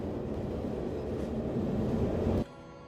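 Steady low rumbling of a train ride in the game Fallout 4 London, a dense continuous roll of wheels and carriage noise that cuts off abruptly near the end to a quieter hum.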